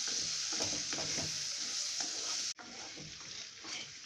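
Boiled potatoes are stirred into a spiced side dish in a hot pan: repeated scraping spoon strokes over a gentle sizzle, briefly dropping out midway before the mixing and frying resume.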